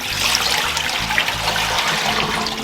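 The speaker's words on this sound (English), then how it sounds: "Now so I'm just going to drain this water off." Soaking water drains from a kitchen sink holding fish, a steady, close gurgling flow that continues without pause and without voices.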